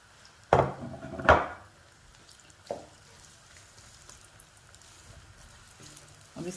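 Chopped onions dropped into hot cooking oil in a pan for a lamb kerahi, two sharp clattering impacts followed by a softer one, then a faint low sizzle settling in the background.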